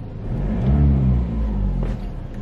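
A Ford Ranger pickup truck engine, DPF and EGR deleted, rumbles low and steady, rising slightly as it accelerates on a drive, heard from close by with no talking.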